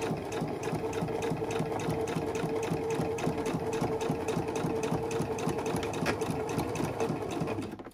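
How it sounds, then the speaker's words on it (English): A sewing machine back stitches a quilt, running as one steady, close, rapid mechanical whirr with an even rhythmic pulse for the whole stretch before slowing at the end. "Again, back stitching, going forward,"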